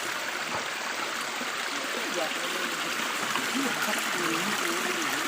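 A natural stream flows through a forest with a steady, close rushing and trickling wash of water. Voices murmur faintly beneath it.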